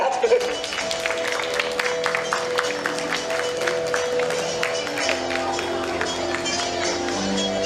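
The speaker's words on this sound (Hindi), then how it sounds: "फुल्दा के लिए जोरदार तालियां।" An audience claps steadily at a Hindi stage play in Mumbai while music with sustained tones plays underneath and a voice speaks over it, the applause forming a dense, even patter throughout.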